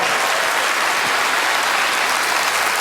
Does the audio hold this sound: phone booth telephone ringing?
no